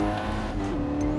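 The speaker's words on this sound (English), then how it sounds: "you can hear that turbo spooling up" A turbocharged four-cylinder road car engine in Gran Turismo 7 drones steadily at sustained revs, a strong even tone running throughout with faint whooshing overtones.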